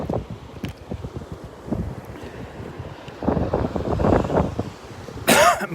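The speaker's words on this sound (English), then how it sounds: "I'm sorry for the coughing." A few rough coughs break through steady wind buffeting the microphone on a beach walk at Delnor-Wiggins, with surf rumbling in the background near the end.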